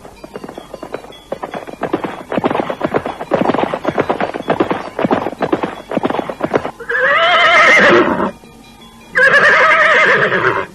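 Horses in an Indonesian audio drama, heard as a loud, fast clip-clop of hooves followed by two long, shrill neighs close up, with no talk over them.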